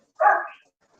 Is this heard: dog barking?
yes